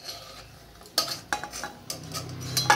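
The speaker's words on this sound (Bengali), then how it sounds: "দেখো আমার বড়িটা ভাজা হয়ে গেছে, আমি বড়িটা তুলে নিচ্ছি।" Fried bori being lifted out of a pan, heard as several close metallic scrapes and clinks of a utensil against the pan over a faint sizzle, with no talking.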